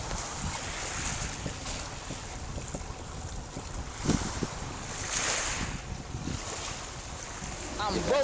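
Wind buffets and water rushes past as a boat moves over the sea off Stromboli, Sicily, with waves swelling and a faint voice at the end.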